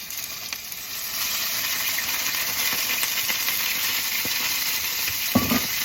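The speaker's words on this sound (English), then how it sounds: "You can hear the sizzling." Steady sizzling and crackling from a whole fish frying in a hot pan, loud and continuous, with a few sharp pops and a faint clink near the end.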